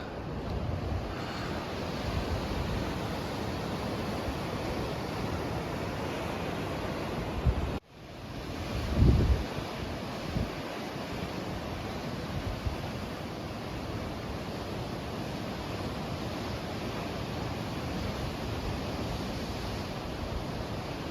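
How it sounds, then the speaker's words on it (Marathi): Steady roar of ocean surf on the Ratnagiri coast with wind noise, continuous and fairly loud, broken by a brief dropout and a low thump midway. "रवरवणारा समुद्र आणि अथांग त्याची व्याप्ती"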